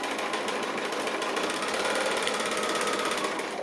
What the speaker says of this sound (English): I'm just going to sew that down the side